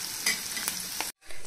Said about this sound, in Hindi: और प्याज को हम हल्का सा पका लेंगे मीडियम फ्लेम पे।